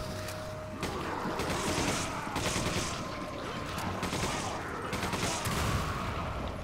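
Rapid bursts of gunfire from the Resident Evil 5 video game, with dense overlapping shots and explosive crackle filling the scene continuously at close, loud range, including magnum rounds.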